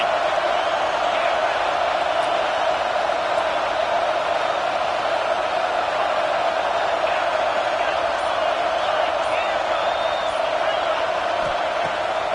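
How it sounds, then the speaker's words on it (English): A football stadium crowd roars in a steady, unbroken wall of cheering that holds loud and constant throughout without pause. "This crowd, full throat, splitting the eardrums and letting them know it's going to be a long day."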